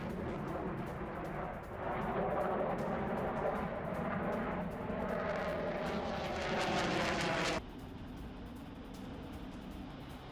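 Polish fighter jets scrambled over the Baltic against Russian aircraft: a loud, steady broadband jet roar with a rising, sweeping tone that cuts off sharply partway through, leaving a lower rumble.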